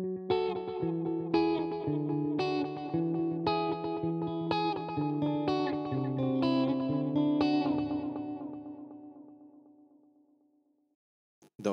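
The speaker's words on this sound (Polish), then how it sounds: "Wybieramy sobie gitarę elektryczną, mamy do wyboru czyste, przesterowane." Electric guitar played through a distorted amp preset in GarageBand sounds a series of about eight struck chords in a steady rhythm, the last one left ringing and fading into silence, with no speech.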